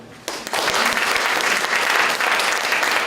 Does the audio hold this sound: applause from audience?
yes